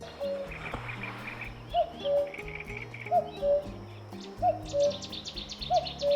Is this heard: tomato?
no